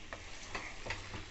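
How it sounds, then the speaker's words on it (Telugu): Chicken curry stirred in a pan after chilli powder goes in: a soft, steady frying hiss with a few quiet scraping strokes of the spoon, fairly faint. "కలుపుతూ ఉన్నాను బాగా."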